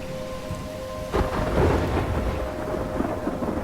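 Thunderstorm in the video game Life is Strange: steady rain on surfaces, then a loud rolling thunderclap that rumbles on under the downpour, with a faint tonal hum throughout.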